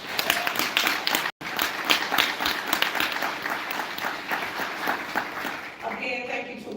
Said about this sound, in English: I ask that you give the committee that put this together another round of applause.